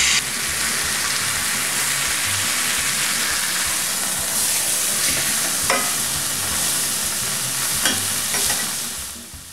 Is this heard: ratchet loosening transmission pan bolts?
no